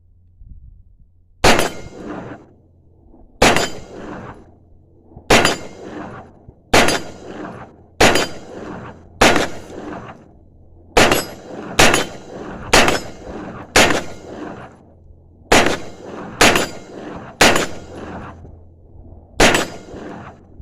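An AR-style 9mm carbine fed from an ETS magazine fires about fifteen sharp, loud shots at uneven intervals, some paired close together, each ringing out briefly in an open outdoor range, with no talking.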